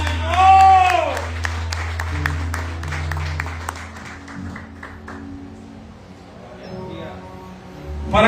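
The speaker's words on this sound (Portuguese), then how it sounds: "dê uma salva de palmas" A church congregation breaks into applause, a dense burst of clapping that thins out over several seconds, with a preacher's voice and sustained music underneath.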